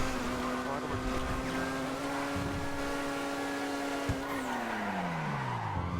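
A police car in the GTA video game passes close by, its steady engine tone dropping sharply in pitch as it goes past, over constant traffic and engine noise.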